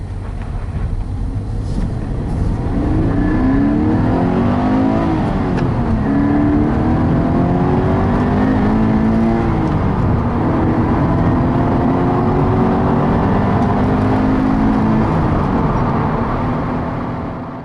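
A Subaru BRZ's boxer engine revs hard past 7,000 RPM and climbs repeatedly through the gears, loud and steady from inside the cabin, with rising and falling pitch sweeps.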